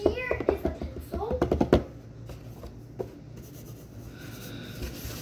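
A pencil scratches across a notebook page in quick strokes and scribbles, close and fairly loud, before fading into quiet room noise; a voice comes through at the start.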